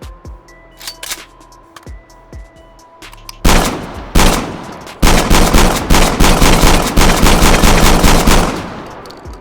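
A Black Ops III gun fires in semi-auto in the H3VR virtual reality shooter: a few sharp, scattered shots and clicks at first, then a loud, dense run of rapid close-range reports that fades at the end.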